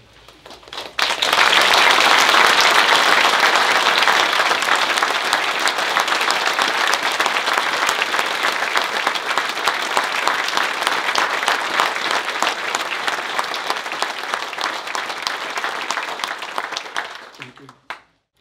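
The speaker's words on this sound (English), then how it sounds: "just give me an applause for Michael if you would, please" Sustained applause from a memorial service audience honoring Michael, a dense, loud wash of many hands clapping steadily for about sixteen seconds before tapering off at the end.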